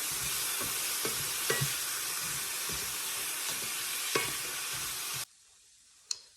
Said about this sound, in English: So we'll put this in our hot pan with the oil and let that cook down a little bit.